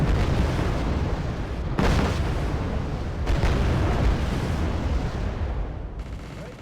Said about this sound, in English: That makes like a really bassy like explosion noise.